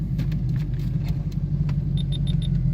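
A manual car pulls away in first gear with a steady low engine rumble close by, and a short run of four quick electronic chime beeps near the end.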